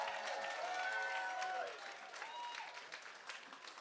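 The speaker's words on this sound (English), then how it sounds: "Can we give all these graduates another round of applause?" Applause from an audience for graduating fifth graders at a Merrick Academy moving-up ceremony: a dense wash of clapping that is loudest at first, then thins and fades to scattered claps.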